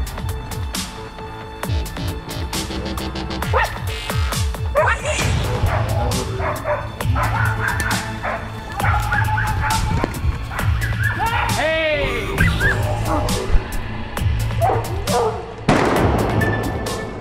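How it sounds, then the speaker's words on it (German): Hunting dogs barking while chasing wild boar on a driven hunt, with repeated barks and yelps of varying distance over steady outdoor background noise and a narrator's voice. "Lara! Die erfahrene Hündin holt sich gezielt Wind und ist schnell an den Sauen."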